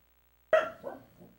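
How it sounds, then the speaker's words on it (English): Dog barks once in a single sharp woof with a short trailing echo, moderately loud and heard alone after silence, in a real setting during a Silent Hill 3 PS2 gaming session. "Okay, that's a real sound. That's a dog."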